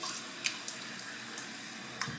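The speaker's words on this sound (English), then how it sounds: "I'm going to go ahead and get some warm water on the face" Warm water from a running tap at a sink, scooped and splashed onto a face before shaving, with a steady soft rush broken by a few quick splashes and drips.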